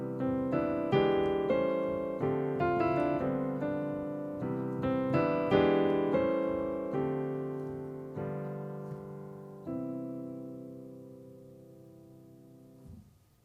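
A jazz piano reharmonization passage moves through several rich chords built around an E dominant 7 secondary dominant. The chords are struck in a steady sequence and allowed to ring, and the last one fades out. The piano is close and clear with no voices.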